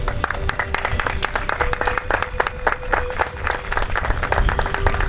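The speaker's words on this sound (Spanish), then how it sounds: "un fuerte aplauso." A crowd applauds steadily at the opening of a cancer foundation, with dense clapping sustained throughout at an even, fairly loud level.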